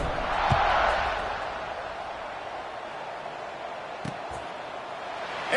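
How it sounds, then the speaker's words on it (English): A home football crowd at a college game between Kansas and ASU roars steadily at kickoff, a broad sustained swell that peaks early and stays loud, with a couple of sharp thumps standing out. "They're set to kick it off, and this crowd now ready to get behind them."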